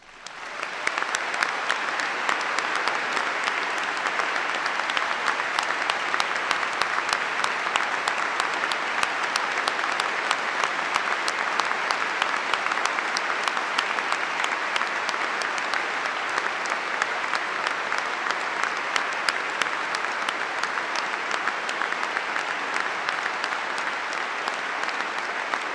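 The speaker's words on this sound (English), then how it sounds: "Let us give them, the faculty and staff, a rousing round of applause." A commencement audience gives the faculty and staff a long, rousing round of applause that runs dense and steady throughout, like a large crowd clapping in a hall, with no break.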